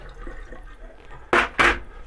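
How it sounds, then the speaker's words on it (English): Water dumped from a wet plate collodion photograph tray in a mobile darkroom: two short loud splashing pours in quick succession after a quiet stretch. "We'll dump out the water."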